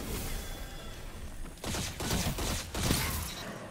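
Shotgun blasts from a lightweight shotgun fire in a first-person shooter match, a few loud bursts close together after a quieter stretch of game ambience.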